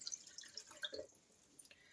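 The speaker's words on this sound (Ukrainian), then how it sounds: "я беру кастрюльку, наливаю 500 мл води" Water runs into a saucepan in a short, faint trickle with small splashy drips, measured at 500 ml for pickled carrots, heard alone in a quiet kitchen.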